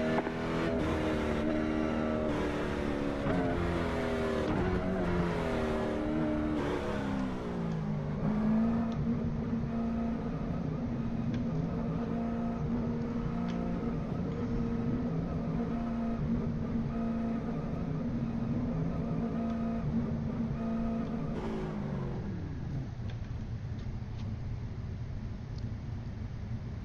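Spark LMSC race cars (Legends/late-model class) at Thompson Speedway accelerating and running on track, a dense, steady engine roar with pitch shifts as cars pass, loud and continuous with radio chatter faint or absent.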